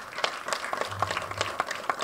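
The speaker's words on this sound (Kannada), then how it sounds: "ಜೋರಾದ ಚಪ್ಪಾಳೆ" Applause from an audience at an Abhinaya Sura award ceremony honoring senior actor Rangayana Raghu: steady, moderately faint clapping from many hands, continuous throughout.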